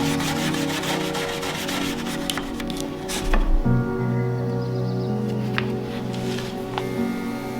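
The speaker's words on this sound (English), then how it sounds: "I started sanding this dresser" Steady abrasive sanding on a wooden vintage painted dresser, a continuous gritty rubbing with a low mechanical hum underneath, close up and fairly loud, no talking.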